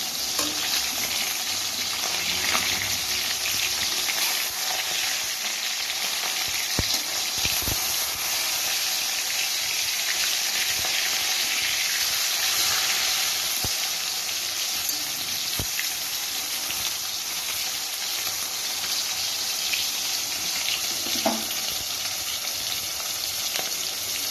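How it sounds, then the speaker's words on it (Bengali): Pieces of rohu fish fry in oil in a pan with a steady, soft sizzle and occasional faint clinks, with no voices. "মাছটাকে হালকা ভাজবো"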